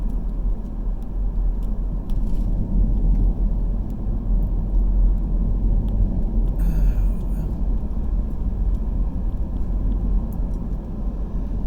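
A car drives through the town of Lafollette, Tennessee, a steady low road rumble and engine whir from inside the vehicle, with a brief brighter swish partway through.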